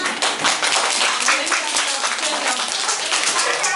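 Schoolchildren in a classroom clap together after a rhyme about saving money, a loud, close patter of many small hands, with children's voices chattering over it.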